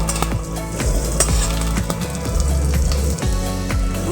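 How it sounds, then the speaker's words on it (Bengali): Onions frying in a pan until reddish-brown, for a potato curry served with kachori, with a steady close sizzle and a few stirring scrapes against the pan. "পেঁয়াজটাকে আমি একটু লাল লাল করে ভেজে নেবো"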